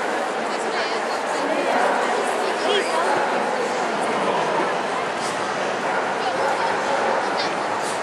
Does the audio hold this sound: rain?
no